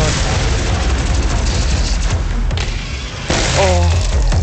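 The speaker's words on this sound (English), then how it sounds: "Oh, it's the plasma gun." A plasma gun fires in the Doom video game, letting out a rapid run of loud booming, popping bursts that barely pause before resuming.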